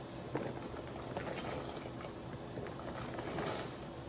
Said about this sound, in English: my water has come up to a rolling boil